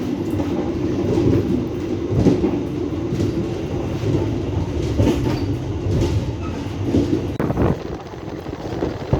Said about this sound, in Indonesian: ini kita coba untuk private ride di KA Majapahit new generation stainless steel